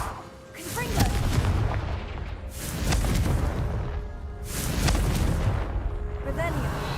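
Repeated booming blasts from the Confringo fire spell in the Hogwarts Legacy video game, three heavy bursts roughly two seconds apart with rumbling low-end tails, loud and close.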